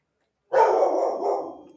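A dog in the Minecraft video game barks once, a close, clear, fairly loud bark that holds for about a second and then fades, with no talking over it.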